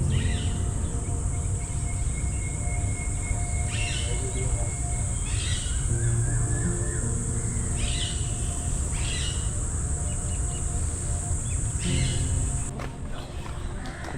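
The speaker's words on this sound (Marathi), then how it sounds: "पक्ष्यांचा आवाज बघा किती भारी वाटतो या शांत वातावरणामध्ये" In a quiet garden at Aarey Colony, Mumbai, among coconut palms, birds give repeated calls and chirps over a steady insect drone, with the sound thinning toward the end.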